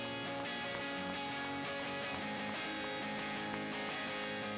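Electric guitar played through a distorted amp, a dense, buzzing sustained tone with faint rhythmic strums, steady and moderately loud, no voices.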